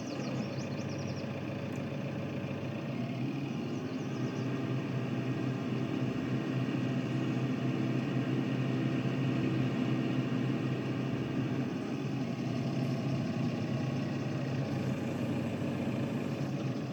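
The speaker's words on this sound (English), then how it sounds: "let's grab the tractor here with the trailer and we are gonna empty out the harvester" Steady engine drone from a tractor and harvester in a farming video game, a continuous low idling rumble that holds at an even level throughout with no talking.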